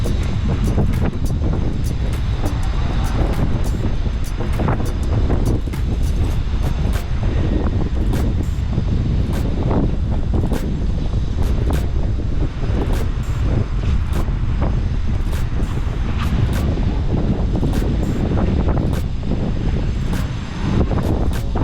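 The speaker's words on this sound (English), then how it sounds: "Right, it's so windy." Strong wind batters the microphone on Legian beach in Bali, producing a loud, constant roaring rumble with gusty buffeting throughout and surf-like wash beneath, and no talk.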